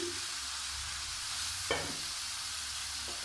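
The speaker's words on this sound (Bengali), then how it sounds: "এবার আমি একে একে দিয়ে দিচ্ছি কপি" Boiled cauliflower pieces dropped into spices frying in oil, with a steady low sizzle, a sharp clatter as the florets land at the midpoint, and a fainter knock near the end; no one talks.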